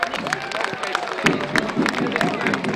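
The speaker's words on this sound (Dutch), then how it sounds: "Applaus, mensen." Crowd clapping and cheering for the Bennekom F3 youth football winter champions at their celebration, a steady dense wash of applause with babble mixed in throughout.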